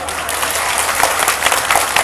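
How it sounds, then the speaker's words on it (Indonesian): Audience applause at an Islamic religious lecture in Taipei, steady dense clapping filling the room for about two seconds without letting up. "Tepuk tangan dulu"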